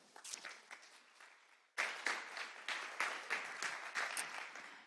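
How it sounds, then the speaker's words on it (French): An audience at a round-table conference applauds, starting as scattered, quieter clapping and then swelling abruptly into fuller, sustained applause from a crowd in the room. "Je vous demande de l'applaudir."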